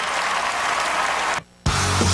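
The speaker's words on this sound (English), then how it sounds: "Give yourselves a big round of applause" A dense burst of audience applause at the VH1 Big in '05 Awards, loud and steady, cuts off abruptly to near silence, then resumes with a low hum underneath.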